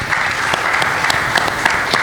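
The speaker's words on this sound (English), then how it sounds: "Please give them a round of applause." Audience applause at a business talk, a steady wash of many hands clapping at moderate loudness, with no voices over it.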